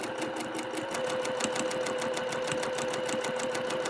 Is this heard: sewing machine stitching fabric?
yes